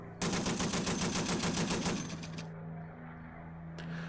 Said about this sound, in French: Le Junker possède également une mitrailleuse arrière et tire 2 bursts.